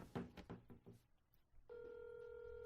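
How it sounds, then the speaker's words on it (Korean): An outgoing phone call connecting: faint tones and clicks lead into a steady ringback tone that holds to the end, with faint voices briefly at the start. "지금 걸고 있습니다."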